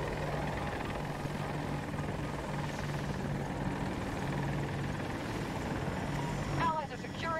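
Helicopters fly in the video game Battlefield 2042, a steady rotor and engine drone that holds throughout under battle noise, with a brief burst of other game sounds near the end.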